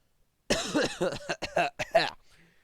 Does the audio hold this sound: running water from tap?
no